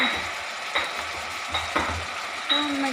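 Light soy sauce hits a hot stir-fry in a home kitchen, giving a steady soft sizzle with a few sharp clanks of a utensil against the pan at intervals.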